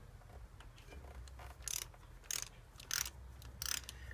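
A hand ratchet running down valve cover bolts on a 2002 Mazda Millenia engine, with quiet clicking and four louder bursts of rapid ratcheting close by over low background hum.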